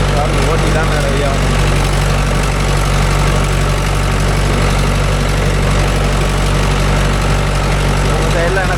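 A Mahindra 575 DI tractor with cage wheels churns through a muddy rice field, its diesel engine a loud, close, unbroken low drone with a steady mechanical hum.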